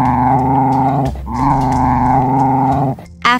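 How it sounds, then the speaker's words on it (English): An African wild dog lets out a long, rumbling, tonal growl in two sustained stretches broken by a short pause, loud and close, ending with a brief sharp noise. "African dog."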